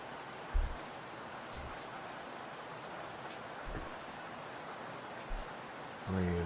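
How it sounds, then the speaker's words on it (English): Steady rain hiss from a game's weather effects, continuous and moderately soft, with a few low thumps scattered through and a brief tonal chime near the end. "Rain thunders, check."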